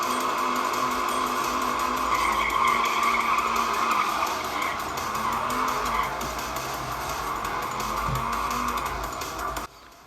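Engine roar and screeching tire skids from the racing video game Nitro Nation, running on an HP 14 Ryzen 5 laptop, play loudly and continuously with no speech before cutting off abruptly near the end.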